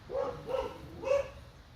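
A pet dog indoors barks three times at a passing dog, sharp mid-pitched woofs spaced evenly about half a second apart, fairly close and clear.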